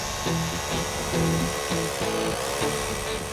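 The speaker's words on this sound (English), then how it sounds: "which is a rotary hammer drill with a carbide tip drill bit" A loud, continuous rotary hammer drill with a carbide-tipped bit grinding into stone, with a steady pulsing whine that varies slightly in pitch as it bores.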